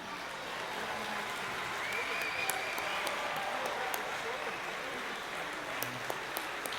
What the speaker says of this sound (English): Let's give a big round of applause to all of our students.